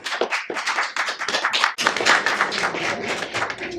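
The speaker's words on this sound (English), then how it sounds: "Can you give her a little welcome with some applause?" Applause from an audience, claps swelling and thinning in uneven bursts for a few seconds.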